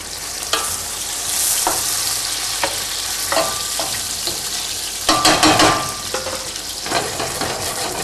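Steady frying sizzle of mushrooms and onion in a pan with intermittent scraping and clatter of a utensil stirring, louder bursts toward the end, no talking.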